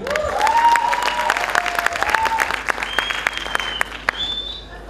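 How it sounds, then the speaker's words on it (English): Audience at a gaming industry conference clapping, dense sustained applause close and loud, with a few whistles rising above it and no talk. "Can I hear some clapping, people?"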